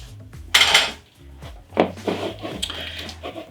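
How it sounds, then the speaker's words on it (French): Eggs and honey are mixed in a bowl for a marble cake, heard as close, loud clanks of a utensil against the bowl followed by softer stirring scrapes and taps, with no speech. "On va prendre le soin de bien fondre le miel avec les œufs."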